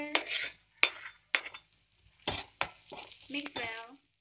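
Ingredients for chilli paneer, with garlic, green chili and ginger, stirred in a pan, giving a string of sharp metallic scrapes and clinks of a spatula against the pan in an irregular rhythm, close and fairly quiet with faint sizzling between strokes.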